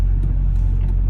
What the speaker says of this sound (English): So the truck is running.